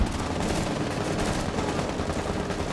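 Gunfire from Rainbow Six Siege, a dense, steady burst of pistol shots filling nearly three seconds at an even, close-range loudness with no talking.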